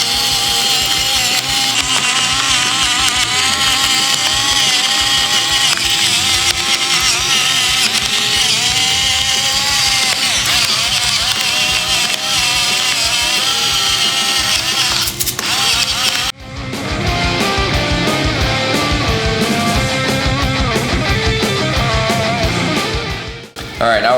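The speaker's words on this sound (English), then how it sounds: "So in this electric pepper mill, I've got a 50-50 mixture of coriander seeds and black peppercorns." Electric pepper mill grinding a half-and-half mix of coriander seeds and black peppercorns, a loud continuous motorized whir and crunch that runs for about sixteen seconds, then shifts to a harsher, coarser grinding tone.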